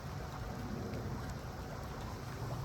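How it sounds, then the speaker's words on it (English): Light rain falls beside a narrow boat on a canal, a steady, soft hiss of drops with a low, dense patter underneath, continuous and even. "It's raining just a little"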